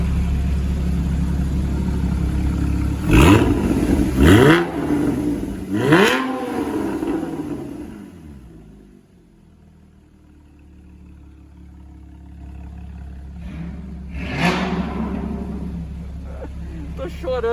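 A Porsche Cayman GT4 engine revs hard through its exhaust in three sharp, loud blips close by, fades to a low idle, then gives one more rev near the end while excited voices shout and talk over it.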